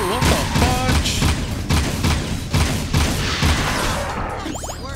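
Rapid bursts of gunfire ring out in the action game Jak II, loud and dense over several seconds, mixed with booming impacts and metallic crashes, with characters' voices shouting over the shooting.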